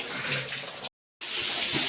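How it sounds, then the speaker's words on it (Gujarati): Water running into a tub to wash a carpet at home, a steady broadband rush of filling water, broken by a short silent gap midway before it resumes. "તો જો પાણી ભરાય છે"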